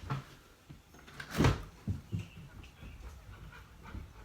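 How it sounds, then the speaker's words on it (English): Dogs at a door wanting to come inside make soft panting, whimpering and scratching sounds, with one sharp knock or thump near the middle, all quiet and close. "Hold on, my dogs want to come inside."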